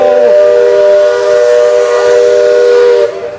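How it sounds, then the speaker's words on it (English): A steam train whistle sounds at Magic Kingdom, Walt Disney World in Florida: one loud, sustained chord-like blast held for about three seconds, close and dominant, then tailing off abruptly. "We got the steam whistle"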